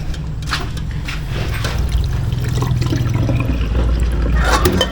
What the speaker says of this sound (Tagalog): Hindi ko pa pala na tapon yung tubig. Tapon natin yung tubig.